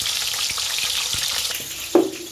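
Fish fries in hot oil in a kadai with a steady, close sizzle, crackling spatter throughout and a sharper hiss burst near the end.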